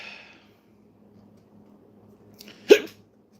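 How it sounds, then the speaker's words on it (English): A woman's hiccup, a single sharp close hic near the end after a brief breathy sound and near silence, with no other voices. "and I have hiccups."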